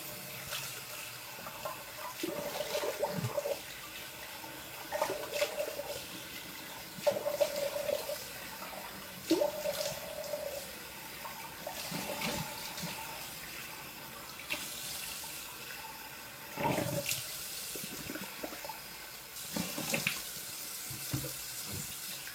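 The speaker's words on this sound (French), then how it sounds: "Rinçage à froid avant le bloc d'Alain." Cold tap water running into a sink during a traditional wet shave, flowing in several short bursts with pauses between, close and fairly quiet, with no voices.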